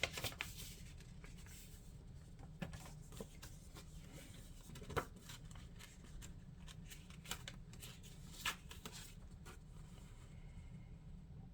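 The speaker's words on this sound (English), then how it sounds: "So, I'm going to open this other envelope" Paper envelope of cash being handled and opened, with soft crinkling, rustling and a few sharper paper snaps close by, fairly quiet throughout.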